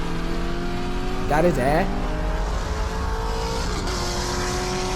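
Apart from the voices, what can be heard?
Mustang racing a Corvette C6 Z06, engines revving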